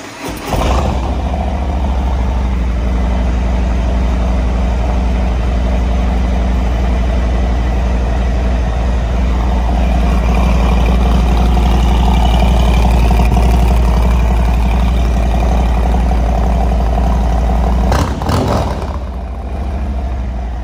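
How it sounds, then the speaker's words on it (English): A 2019 Harley-Davidson FXDRS motorcycle with a 114 engine cranks over and settles into a loud, steady, lumpy idle close by that runs for about twenty seconds, with a brief blip near the end and no talking. "Do a quick crank up."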